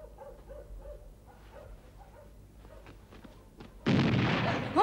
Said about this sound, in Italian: Gesù santissimo, è stata una cannonata.